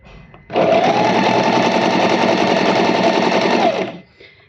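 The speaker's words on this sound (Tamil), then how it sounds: "நான் இப்போ அது மேலேயே அப்படியே ஸ்டிச் போட ஆரம்பிக்கிறேன்" A sewing machine runs fast and loud for about three seconds, stitching the folded edge of a saree with a dense steady whirr, then slows to a stop.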